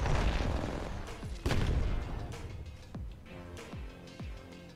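Gunfire rattles in the Apex Legends battle royale game, with dense overlapping bursts and booming shots that echo and trail off, loud at first and then thinning to scattered shots.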